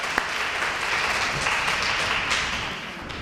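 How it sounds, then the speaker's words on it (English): A crowd claps for talent competition contestants, a steady wash of applause with scattered sharper claps, sustained for about three seconds and tapering slightly at the end. "Let's give them all a nice round of applause."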